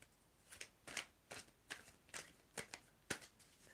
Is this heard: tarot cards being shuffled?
yes